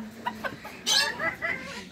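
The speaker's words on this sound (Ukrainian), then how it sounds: "А кури, що це за порода? Це карликовий конхін-хін." Bantam Cochin chickens at a zoo in Okhtyrka cluck in short, close bursts, with one louder squawk in the middle of the sequence.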